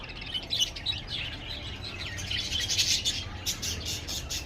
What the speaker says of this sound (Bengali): ওই দেখো পাখি